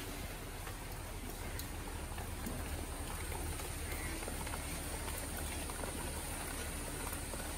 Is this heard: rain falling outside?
yes